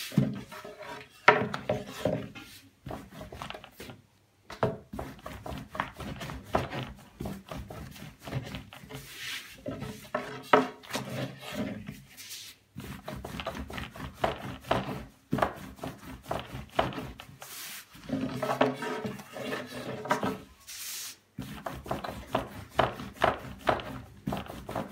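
Dough made from a mix of wheat flour and corn starch is rolled out by hand on a wooden surface, giving steady rubbing and soft knocking strokes up close.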